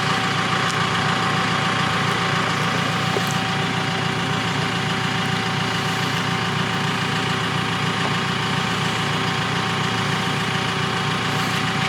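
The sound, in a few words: JCB telehandler engine running while lowering boat engine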